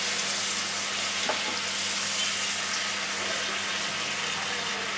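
Wild amla, Indian gooseberries, fry in hot oil with a constant dense sizzle and a faint stir partway through, close and steady throughout.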